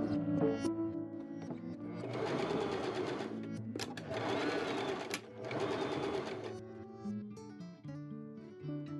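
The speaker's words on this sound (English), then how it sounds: "I machine sew all the pieces I just pinned" A sewing machine stitches pinned fabric face mask pieces at a quarter-inch seam, running in three sustained bursts with short pauses and a clicking stop between them. The sound is close and fairly quiet.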